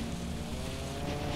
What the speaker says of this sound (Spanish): Perfecto, me quedó esta motocicleta.